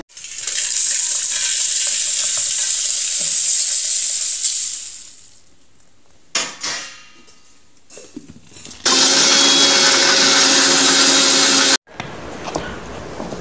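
A mixer grinder whirs in loud bursts while grinding roasted masala for mango pickle, with a long run, a quiet gap, short pulses, then another strong burst that cuts off abruptly before a softer tail.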